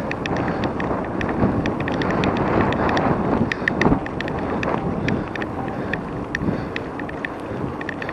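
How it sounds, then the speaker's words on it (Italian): Outdoor wind buffets the microphone in a steady low rumble with gusty swells, broken by faint scattered clicks, and no one speaks. "si è alzato un po' di vento"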